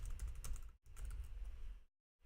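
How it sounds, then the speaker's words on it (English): Rapid, steady typing on a computer keyboard while coding, with dense clicking keystrokes in two bursts separated by short pauses, close and moderately loud with no talking. "it's not printing the intermediate values as I'm typing away"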